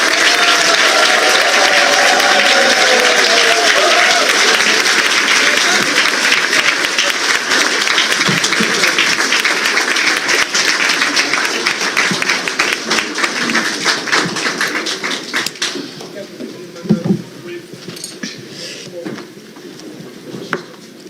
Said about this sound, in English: Please welcome our President with a rising round of applause.